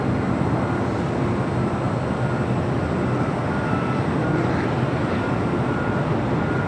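A heavy jet taking off from runway 25 left at LAX, a continuous loud roar with deep rumble that stays steady and sustained throughout.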